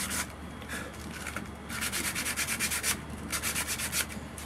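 Close hand sanding on a wooden whale or orca flute totem, rhythmic back-and-forth rasping strokes coming in bursts, loud and up front with no talking.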